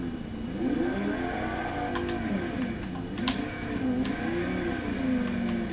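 Car engine in Fortnite rising and falling in pitch as it revs and cruises, a steady mid-level drone with a few sharp clicks and ticks scattered over it.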